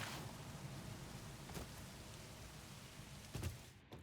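Steady rain falling in a factory-building video game, a soft continuous hiss throughout with a couple of brief louder patters near the middle and end, faint and with no talking.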